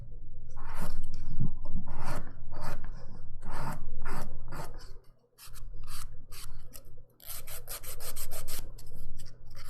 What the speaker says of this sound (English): Just buffing everything nice and smooth, getting it ready